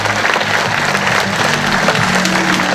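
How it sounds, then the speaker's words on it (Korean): Sustained, dense applause from an audience at a public rally in Yeongcheon backing relocation of a Daegu military base, thanking a general after his lecture; steady and loud throughout with no voices on top. "다시 한 번 더 강성대 장군님께 감사의 박수 부탁드리겠습니다."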